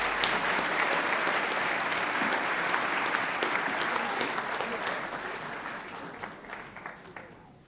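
Audience applause at a Year 12 high school graduation ceremony, a dense crowd of clapping filling the hall steadily for several seconds before slowly thinning toward the end.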